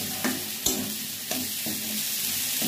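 Peas and potatoes fry in a pan, a steady crackling sizzle with a few sharp stirring clacks from the utensil.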